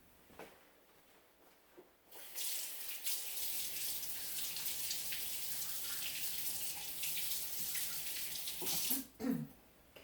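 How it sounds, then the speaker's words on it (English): Running tap water in a kitchen sink splashes steadily as hands are rinsed under it for several seconds, starting abruptly and stopping near the end, followed by a faint brief sound. "I'm going to rinse my hands real fast."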